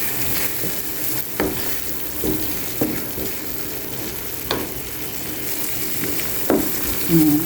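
Egg and tomato frying in a pan for breakfast, with a constant sizzle broken by several distinct scraping strokes of a spatula stirring the mixture, close and fairly loud.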